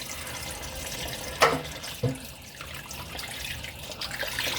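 Tap water runs into a kitchen sink while meat is washed for posole, a steady splashing stream with two sharp bursts of splatter as the flow hits the meat, close by.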